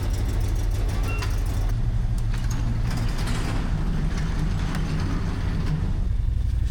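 A CFMoto Uforce 1000XL side-by-side UTV idling as it warms up, a loud, steady low engine rumble close by with some mechanical clatter, no talking.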